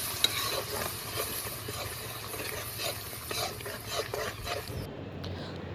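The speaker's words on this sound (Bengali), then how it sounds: "মশলা কষানো হয়ে গেলে এর ভিতরে দিয়ে দিচ্ছি প্রায় আধা কেজি চিংড়ি মাছের মগজ" Prawn brains, about half a kilo, tossed into spices already fried down in a pan, sizzling steadily with stirring scrapes throughout, the frying noise close and continuous before it suddenly drops away near the end.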